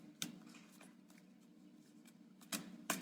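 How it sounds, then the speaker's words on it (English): Oracle cards being shuffled by hand during a reading, a few quiet crisp riffles and flicks in a hushed room, with soft bursts near the start and two sharper snaps at the end. "shuffling the card for you"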